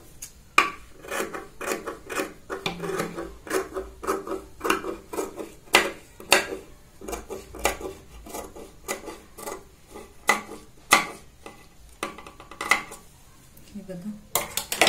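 Scissors snipping through fabric while a prince-cut blouse is cut out, in a long series of crisp, close cuts in an irregular rhythm, with short pauses between strokes.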